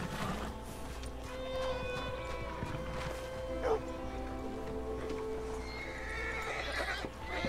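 Horses on a game farm give a loud, wavering neigh midway, with scattered hoof clops and shuffling under a steady low hum and ambient noise.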